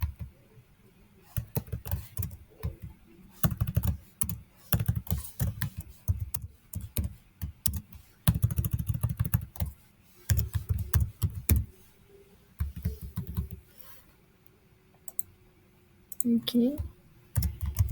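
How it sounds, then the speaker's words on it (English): Typing a password and email on a computer keyboard during a car rental system demo: bursts of quick, close key clicks in uneven runs, with a voice speaking briefly between them. "So the user will type his password, his email first, and make a new password."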